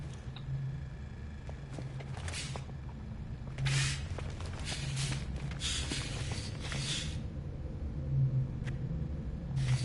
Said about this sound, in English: Incoming storm.